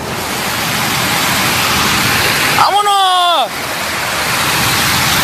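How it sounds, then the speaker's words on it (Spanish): Flooded Cuale river rushing through the streets of Puerto Vallarta, a loud continuous roaring torrent throughout, with someone shouting briefly midway. "¡Se salió el río, señores!"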